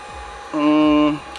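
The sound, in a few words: Wagner Furno 700 heat gun running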